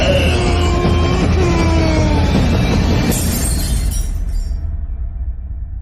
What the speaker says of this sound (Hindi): गुस्से में चिल्लाकर शीशे पर इतनी जोर से मारा कि शीशा